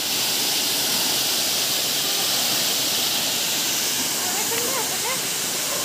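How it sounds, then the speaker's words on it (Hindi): Large mountain waterfall pouring over rocks, a steady loud broadband roar that fills the whole stretch close by, with faint voices buried beneath it. "ये जो चट्टानों में पानी का जो मतलब झरना गिर रहा है"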